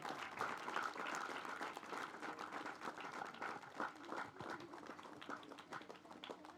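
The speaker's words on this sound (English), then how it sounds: "deserve a big round of applause." Applause for a field team at a SOFKIN children's charity event, broad continuous clapping from an audience, fairly distant and soft but sustained.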